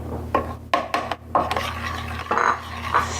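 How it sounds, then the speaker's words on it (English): A spoon stirring flour into thick brownie batter in a bowl, a series of close, soft scraping and rasping strokes in an irregular rhythm over a low background hum, with no voices. "Now I add the flour."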